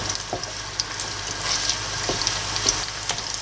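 Onion fries in hot oil in a pan for creamy bistek Tagalog, a steady sizzle with scattered crackles and pops, close and moderately loud.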